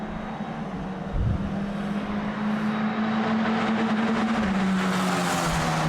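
A Formula 4 race car lapping the Red Bull Ring, its engine a sustained loud drone holding one steady pitch, then shifting lower as it works through the track.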